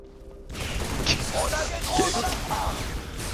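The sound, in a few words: gunfire and grenade in video game Halo 3 ODST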